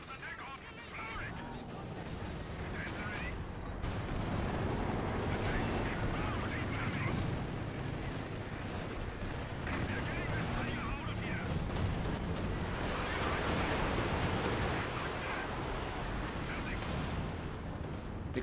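Battle in Company of Heroes 2 during a 4v4 multiplayer match, with dense continuous gunfire and artillery-like booms as an ISU-152 tank is hit, while players talk over it.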